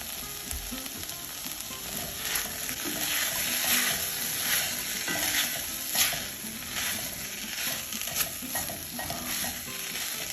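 Wild rice, butternut squash and apricot sizzle and get stirred in a pot, a steady close crackling fry with scraping stir strokes throughout and no talking.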